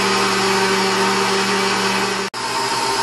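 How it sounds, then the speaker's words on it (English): An electric stand mixer beats egg whites for amaretti cookies, giving off a loud, steady motor whir that cuts out for a split second before carrying on. "there's our egg whites in the mixer, and we will beat that up"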